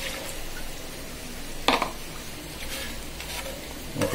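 Pointed gourd (potol) sautéing in a pan before fish is added, a soft, even sizzle with a sharp clink of a utensil partway through and faint stirring sounds, no speech.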